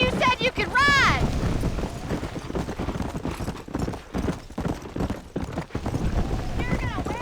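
Horse hooves galloping in the Red Dead Redemption video game, a rapid, continuous clip-clop close by, with a whinny near the start and another near the end, while people talk over the ride.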